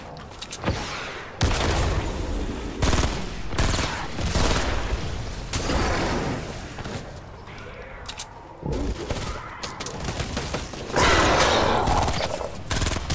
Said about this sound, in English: Yeah, I know, I'm shooting him